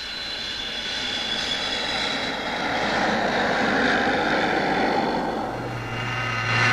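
Breguet Atlantique turboprop reconnaissance aircraft at the 1963 Paris Air Show, engines giving a steady, broad droning roar that swells slightly and stays continuous throughout, with no talking.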